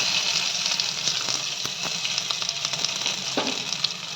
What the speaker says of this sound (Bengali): পেঁয়াজটা ভালোভাবে লাল লাল করে ভেজে নিতে হবে